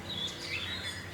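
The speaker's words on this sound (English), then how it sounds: "You can still hear the birds chirping." Birds chirping in the morning outdoors, with a few thin, high tweets and short calls over a soft, steady ambient background, fairly faint and with no talking.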